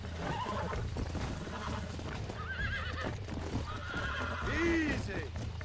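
In the Red Dead Redemption video game, a horse neighs and whinnies repeatedly while hooves clip-clop underneath, and a person talks over the sounds throughout.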